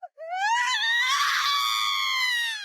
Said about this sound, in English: until finally he hears a scream